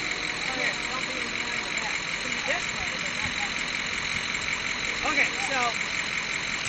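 Porsche 944 engine idling steadily as the car is put in drive, a low continuous hum under brief talk from nearby people.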